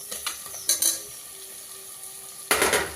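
Cut mushrooms tossed into a pan and sautéed with tomato and coriander, giving soft sizzling under a few sharp utensil scrapes and clatters, with a louder burst of stirring near the end.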